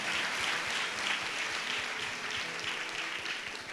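A church congregation gathered for a fasting prayer session claps loudly and steadily, a dense wash of many hands applauding together without a break.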